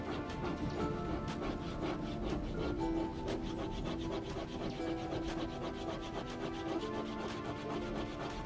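A thumbnail scratches across a flat scrimshaw surface, a close, continuous rasping rub with repeated strokes and no talking.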